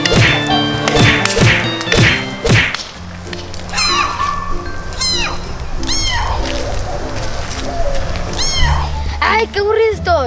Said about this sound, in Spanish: Se escucha como un gatito.